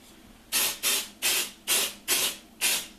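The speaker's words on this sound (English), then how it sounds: "now that we've sprayed our mold with our mold release spray" Mold release spray hissing onto a mask mold in six short, even bursts of about a quarter second each, close and fairly loud with brief pauses between.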